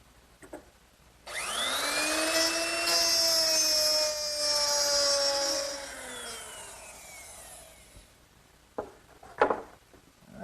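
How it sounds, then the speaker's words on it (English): A woodworking router plows grooves along a clamped straight edge with a 1/2-inch mortising bit, giving a loud, steady high-pitched whine that holds for about seven seconds before spinning down, followed by faint clicks. "using a nice straight edge, which is clamped in place so that the router can ride against it, I'll plow out each groove using a 1/2-inch mortising bit"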